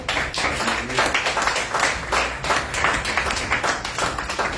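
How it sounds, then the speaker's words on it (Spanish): A church congregation claps in a steady, pulsing rhythm, loud and continuous throughout, with no voices standing out. "Den aplausos al Señor"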